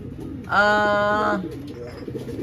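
A single drawn-out pigeon coo, close and clear, lasting under a second against a quiet background.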